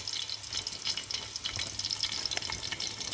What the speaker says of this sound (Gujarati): ત્રણસો ગ્રામ જેટલું ડુંગળી આપણે ફ્રાય થવા દઈશું